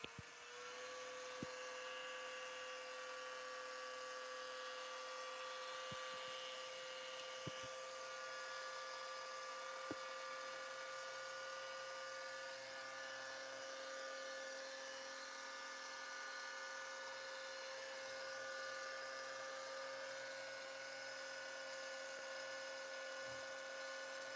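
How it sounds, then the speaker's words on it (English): Steady high-pitched whine of a Liquid Element car polisher running continuously during a mobile detailing job, a sustained tone with faint clicks and no pauses. "Eric, that one is the Liquid Element. Really good polisher"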